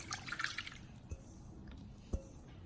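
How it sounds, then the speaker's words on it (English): Marinade juices trickle and drip quietly into a pot, with a couple of distinct drops standing out against soft background noise. "We're gonna pour all the little extra juices on top."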